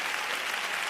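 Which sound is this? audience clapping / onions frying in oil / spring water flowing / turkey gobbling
audience clapping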